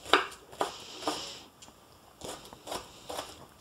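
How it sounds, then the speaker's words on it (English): A knife chops an onion on a cutting board in a kitchen, producing a handful of sharp, separate knocks spaced irregularly, close and fairly quiet. "Chopping onions is kind of a pain."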